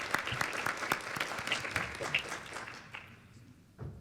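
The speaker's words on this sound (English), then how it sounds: "Big round of applause" Audience at a cystic fibrosis conference panel gives a round of applause, sharp individual claps standing out within a moderate crowd that tapers off and fades toward the end.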